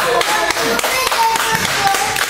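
Church congregation applauding the Lord, a dense ragged burst of many hands clapping close by, with voices and singing mixed in underneath.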